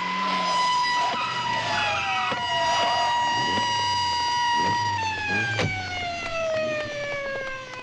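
An Italian police siren wails loud and close, its long sliding tone held steady and gradually dropping in pitch as the car arrives, with no speech over it.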